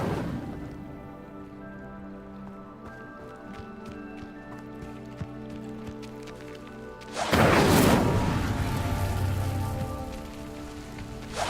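A fire spell cast in Hogwarts Legacy to light a pyre, a sudden loud whooshing burst of flame that keeps roaring over a steady layered musical and ambient game background.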